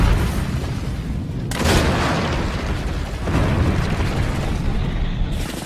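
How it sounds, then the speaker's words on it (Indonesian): A fuel depot blows up in a wartime battle scene, with a deep booming blast that swells into sustained roaring rumble, followed by a second surge of explosive roar; loud and close, with no speech. "Thomas berhasil meledakkan gudang bahan bakar."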